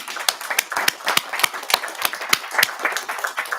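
At a town council meeting, a small audience claps in a sparse, uneven pattern of distinct individual hand claps, moderately close, with no talking over it.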